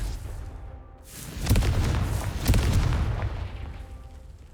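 Two booming blasts from the Confringo fire spell in Hogwarts Legacy, a second apart and moderately loud, each followed by a rumbling tail over steady ambient game sound.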